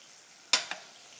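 A spoon stirs a pastrami spaghetti sauce enriched with labneh cream and cheddar sauce in a pan: two quick, close scraping strokes, the first louder, over a quiet background with no talking.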